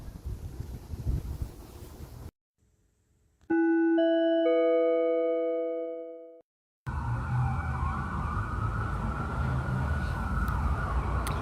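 Emergency vehicle sirens wail faintly in the distance outdoors in Ontario, partly buried under heavy wind buffeting the microphone, with a brief stretch of steady electronic tones in the middle.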